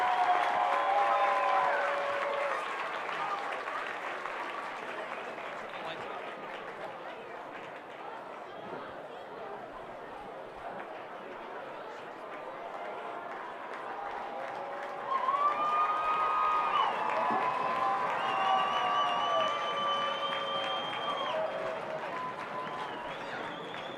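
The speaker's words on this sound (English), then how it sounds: "Ladies and gentlemen, let's give our band and our cheer squad a big round of applause" Stadium crowd at a high school varsity football game, with scattered clapping and cheering blended into steady chatter, band tones rising in the second half and a voice talking over the din.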